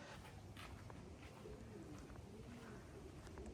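Racing pigeons at the end of a 350-mile race in strong wind, cooing faintly under a steady outdoor hiss, distant and low in level.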